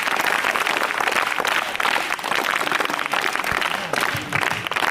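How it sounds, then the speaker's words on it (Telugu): An audience at a school Independence Day celebration claps steadily for a sir, a dense, sustained round of applause filling the room throughout with no voices over it. "సార్కి మరొకసారి క్లాప్స్ కొట్టున్నామా?"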